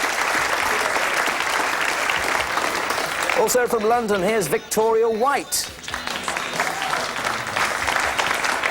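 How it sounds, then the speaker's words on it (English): Steady audience applause fills a model-of-the-year contest hall, greeting finalists in 1987 London. The dense clapping runs throughout at even loudness, with a presenter's voice briefly announcing over it midway before the clapping carries on alone. "A nice round of applause, please."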